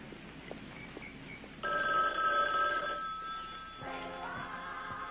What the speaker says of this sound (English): Why don't you answer